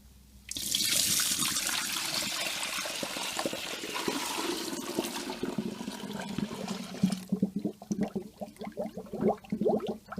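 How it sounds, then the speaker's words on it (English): Sanitizer solution pours into the hopper of a Carpigiani ice cream machine as a steady, loud rush of liquid, then breaks into gurgling, splashing bursts toward the end. Nobody speaks. "So now we're going to use the sanitizer solution to put into the hopper."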